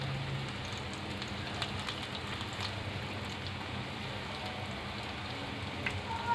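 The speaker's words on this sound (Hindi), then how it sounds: "बाहर इस वक्त भी तेज़ बारिश हो रही है" Heavy rain falling outdoors, a steady dense hiss of drops with faint scattered taps on surfaces, continuous and even throughout with no voices.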